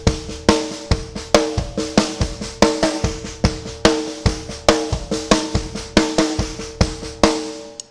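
A drum kit plays a steady groove alone, with punchy kicks, crisp hi-hat ticks and soft snare ghost notes in a repeating, evenly accented rhythm, close and fairly loud.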